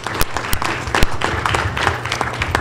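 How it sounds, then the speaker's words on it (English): Applause from the audience at a Zika virus health forum, a steady patter of many hands with a few sharp, close claps standing out, lasting a couple of seconds without speech. "Let's give him a round of applause"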